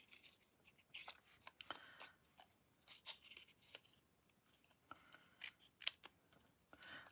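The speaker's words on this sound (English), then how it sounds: "I do get rid of excess pieces of paper as I'm cutting" Scissors snipping paper pieces for a stamping craft, heard as quiet, close, irregular cuts and rustles scattered across several seconds with short pauses between them.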